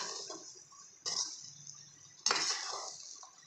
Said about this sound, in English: Ginger, garlic, chili powder, everything has to be mixed well